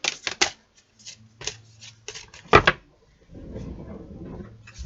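Tarot cards are shuffled by hand in several quick, crisp riffling bursts, close and dry, followed by a softer rustling stretch of card handling.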